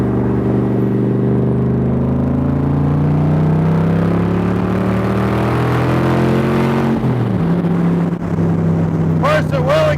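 A 1965 Shelby Cobra replica roadster cruises at about 60 mph, its engine droning loudly and rising in pitch as it accelerates, then a gear change drops the note; someone talks over it.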